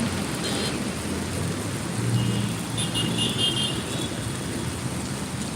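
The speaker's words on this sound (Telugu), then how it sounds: "మస్తు పడుతుంది వర్షము" Heavy rain falls on a Hyderabad street as a steady, dense hiss, while a car passes nearby with a low engine rumble partway through and no voices are heard.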